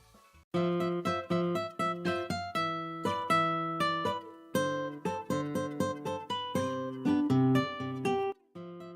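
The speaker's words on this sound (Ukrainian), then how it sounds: "Це гітара так звучить." A guitar plays a short melody of plucked, ringing notes for a children's music guessing game, each note decaying clearly before the next, heard alone without voices.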